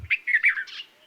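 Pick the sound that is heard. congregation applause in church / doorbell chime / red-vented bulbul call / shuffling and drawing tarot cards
red-vented bulbul call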